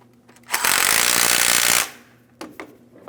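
Power tool buzzing for about a second and a half as it tightens front lower control arm bolts on a 2007-2014 GMC Sierra 2500 HD, loud and close, followed by a few short metallic taps.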